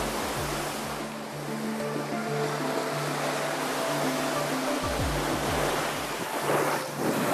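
Waves wash steadily onto a Caspian Sea beach in Kazakhstan, a continuous roaring surf with wind buffeting the microphone and faint low tones underneath, no voices.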